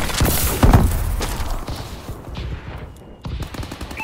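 Suppressive gunfire in Call of Duty: Advanced Warfare, an online multiplayer match: dense, close, overlapping rifle bursts and rapid automatic fire with heavy thumps, then a short lull and a fresh burst.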